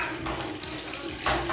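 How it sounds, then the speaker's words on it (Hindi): Water runs from a bathroom tap to fill a container, a steady, close rushing splash that carries on without a break. "यहाँ पे मेरा पानी भर रहा है"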